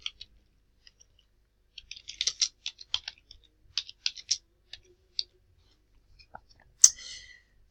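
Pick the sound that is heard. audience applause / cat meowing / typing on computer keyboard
typing on computer keyboard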